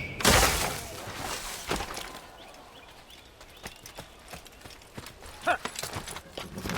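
A horse's hooves clip-clop in the Assassin's Creed game on Xbox 360, a sharp crash at the start followed by uneven thudding steps of moderate loudness, with no talk over them.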